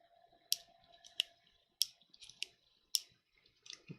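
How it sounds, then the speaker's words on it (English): A dropped measuring tool with a broken gear tooth makes about six sharp, dry clicks at uneven intervals, close and quiet, with no one talking. "That clicking is a broken tooth on the gear."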